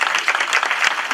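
Lecture audience claps in a short, dense burst of applause, many hands close and loud with no voices over it.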